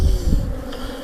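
Dense, loud buzzing of many honeybees swarming close by at a hive, a continuous droning hum with no voices.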